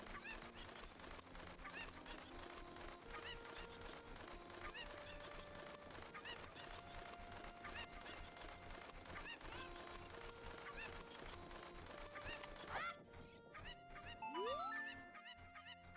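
Cucco chickens in the Ocarina of Time video game cluck and squawk over busy game music throughout, with a brief rising swoop near the end.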